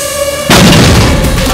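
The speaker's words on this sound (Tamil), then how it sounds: "உங்க ஆத்துல பெருசா வெடி சத்தம் கேட்டது" In a Tamil movie scene, a sudden loud explosive boom erupts after a quiet moment, followed by a sustained rumbling roar that fills the space.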